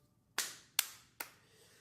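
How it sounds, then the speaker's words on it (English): Three sharp hand claps, evenly spaced about half a second apart, close and distinct in an otherwise quiet room. "Don't clap."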